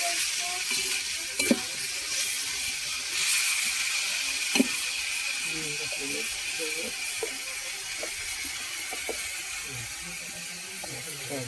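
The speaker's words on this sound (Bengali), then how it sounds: "পেঁয়াজটা ভালো করে তেলের ভিতরে একটু ভেজে নিতে হবে" Onion and garlic paste fries in oil for a fish and greens curry, giving a steady soft sizzle throughout with a few faint spoon scrapes and taps against the pan.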